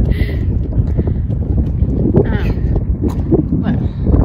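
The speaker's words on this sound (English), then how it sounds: "A little bit windy." Wind blowing outdoors on a sunny, mild day, buffeting and rumbling against the microphone in gusts while people talk close by.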